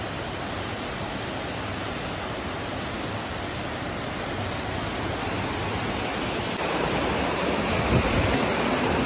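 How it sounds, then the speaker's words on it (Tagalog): Waterfall in Rizal province, a loud, close, constant rushing roar that fills the whole stretch without pause, swelling slightly near the end, with no voices. "Ganda ng falls, oh!"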